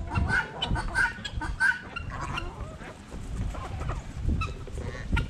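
Three young white roosters among other farmyard fowl, giving repeated honking, squawking calls over a busy, rustling background, fairly near and moderately loud.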